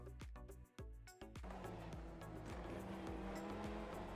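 On-board engine of a race car in a racing video game, a steady sustained roar with changing pitch, preceded by a few sharp gear-shift or bump transients in the first second and a half.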